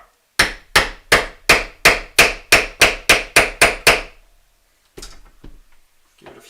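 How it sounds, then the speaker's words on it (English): About a dozen loud, evenly spaced hammer blows strike something during an unboxing, each sharp hit ringing briefly before the next; after a pause, fainter knocks and handling noise follow. "Give it a few good whacks."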